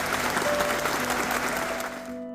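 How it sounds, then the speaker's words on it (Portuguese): Crowd applause during a memorial march in Paulo Afonso, Bahia, a dense continuous clatter of many hands clapping outdoors, steady throughout before cutting off. "com passeata e aplausos"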